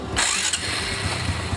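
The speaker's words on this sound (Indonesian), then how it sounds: "Pertama kita hidupkan mesin dulu" A Honda Karisma motorcycle engine cranks and catches during carburetor tuning, a close, rough rumble with a brief starter burst early on, then an uneven running drone.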